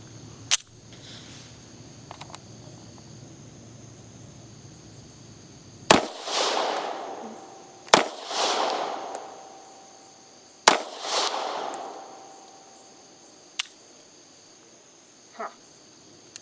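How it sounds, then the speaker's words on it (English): Three sharp gunshots from a Spanish Star BM 9mm pistol loaded with MaxTech 124 grain cartridges ring out at a range, each loud crack trailing a short echo, spaced a few seconds apart, followed by a couple of fainter clicks. "I'm going to give this gun a whirl. And now I'm using MaxTech 124 grain cartridges"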